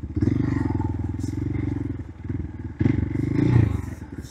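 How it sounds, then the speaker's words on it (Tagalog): A motorcycle rumbles steadily along a rough road on the way to a nature camp, a loud close engine drone with bumps and rattles, dipping briefly mid-ride, with talk over it. "Tama lang pala na ito yung motor na dinala natin, no? Kasi ano na siya, talagang rough road na."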